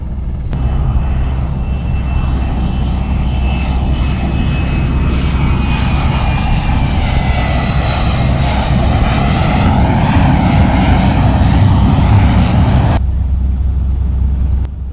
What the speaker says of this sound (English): carefully maneuvering his stealth jet onto the thermal-coated deck.